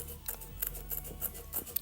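Scissors trim quilting fabric for a mug rug, a few quiet, close snips spaced irregularly over a faint background.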